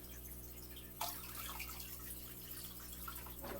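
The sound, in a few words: water being poured into a 20-gallon fish tank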